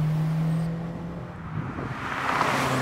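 A 1981 Renault 5 Turbo drives by at moderate volume, its engine tone sliding down then swelling into rushing road and wind noise near the end.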